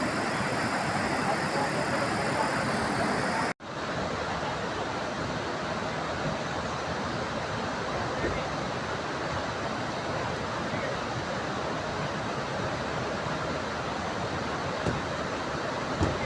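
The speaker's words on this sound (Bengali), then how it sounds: "ঝর্ণার জলটা ধৌলি গঙ্গায় এসে মিশেছে।" A Himalayan waterfall stream pours into the Dhauli Ganga river, a dense, steady roar of rushing water close by, broken once by a brief cut before continuing unchanged.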